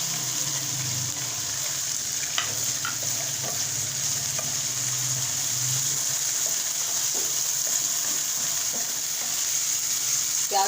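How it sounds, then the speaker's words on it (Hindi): Onions sizzling and frying in a pan with chicken, salt added, a steady close hiss broken by occasional scraping stirs, no talking. "प्याज को भी फ्राई करना"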